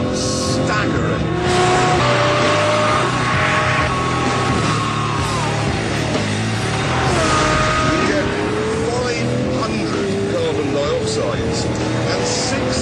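Lamborghini Murcielago LP640 supercar with a 6.5-litre V12 engine, running loud and continuous with rising and falling tones as it accelerates and shifts, lasting the full length.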